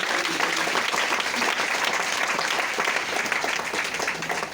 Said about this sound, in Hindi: एक जोरदार ताली डॉक्टरों का डॉक्टर।